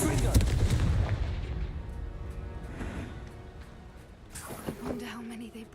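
Confringo explosive spell cast in the video game Hogwarts Legacy: a loud booming blast up front that fades into rumble, followed by another sharp burst near the end.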